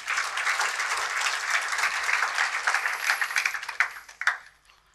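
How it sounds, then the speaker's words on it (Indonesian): A church congregation bursts into loud, dense applause that holds steady, then breaks into scattered individual claps and dies away near the end. "Tepuk tangan buat Tuhan."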